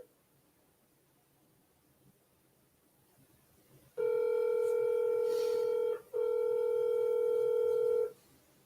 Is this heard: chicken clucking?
no